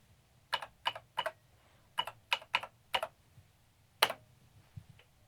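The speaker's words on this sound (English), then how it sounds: "then we just need to type in the password" Keys tapped on a computer keyboard while a password is entered to join Wi-Fi on a FujiNet-equipped retro computer setup, about a dozen crisp, quiet clicks in short uneven bursts, close and alone.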